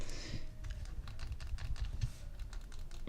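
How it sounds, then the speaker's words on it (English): Clicky buttons on an original Game Boy Advance handheld are pressed in a quick, irregular series of sharp, close clicks with no talking. "love the shoulder buttons of the original, very clicky shoulder buttons of the original one."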